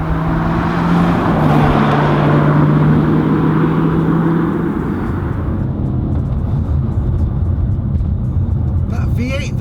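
A BMW M3 E92 Competition Package with a naturally aspirated V8 engine gives a loud, steady drone that shifts pitch partway through, then fades into a rougher running rumble.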